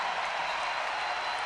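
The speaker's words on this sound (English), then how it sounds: "The fans applauded" Fans at a Stanford–Wisconsin women's volleyball regional final applauding after a long rally, a steady wash of clapping and crowd noise at moderate level from start to finish.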